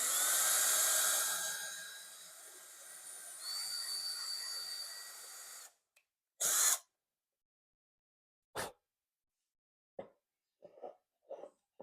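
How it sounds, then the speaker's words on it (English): A drill bit bores through an IKEA Billy bookcase panel, a loud, steady whine for about six seconds that cuts off abruptly, followed by several short, sharp knocks and clatters. "So I'll be using this drill bit to drill all the way through on these."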